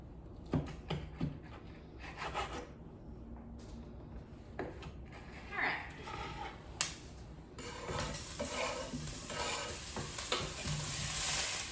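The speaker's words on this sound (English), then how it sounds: "So the broths are sauteing." Food sautés in a pan with stirring, a close sizzle with intermittent scraping and tapping strokes that swells into a louder, denser fry over the last few seconds.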